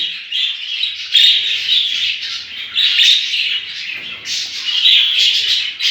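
Pet budgies kept at home for breeding chirp and warble continuously, several birds overlapping in bright, busy chatter with short bursts rising and falling, close by and without any talk.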